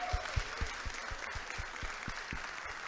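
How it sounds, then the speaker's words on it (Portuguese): Audience applause for two guests at the close of a Brazilian comic-book discussion panel: a steady wash of clapping from a small crowd, with some sharper individual claps, fairly close and continuous throughout. "queria pedir uma salva de palmas para nossas 2 convidadas aqui de hoje"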